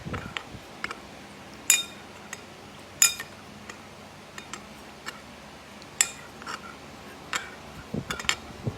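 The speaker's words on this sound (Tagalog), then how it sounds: "ilagay natin yung cornstarch dito, halo lang natin" A utensil stirs cornstarch into a beef pares sauce, scattered sharp clinks and taps against the pot at an irregular pace, close and fairly quiet, with no talk.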